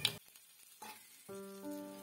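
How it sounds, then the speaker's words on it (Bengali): Nigella seeds hitting hot oil in a wok give a brief sizzle and crackle, with a steadier frying hiss and some faint tonal sounds toward the end. "কড়াইতে দিয়ে দিয়েছি কালো জিরে ফোড়ন"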